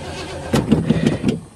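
A car engine with a bone-dry, empty gas tank cranks but fails to start, giving about five rhythmic, loud chugging turnover pulses close by that never catch into an idle.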